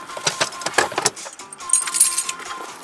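A car jack and tools are pulled out of a storage compartment beside a flat tire, with close metallic clanks, jangles and rattles in quick irregular bursts.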